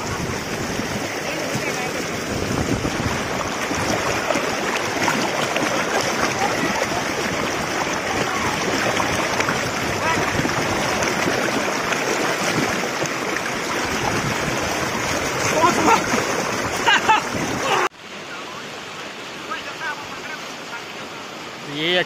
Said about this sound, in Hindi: पानी का फ्लो आपको काफी क्लोज से दिखाने की कोशिश करूंगा।